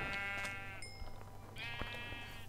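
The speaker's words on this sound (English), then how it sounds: "there's plenty of sheep around here, so I'm going to kill a few" Sheep in the Minecraft video game bleat in two clear, close calls, one at the start and another near the end, with soft game ambience between them and no talk.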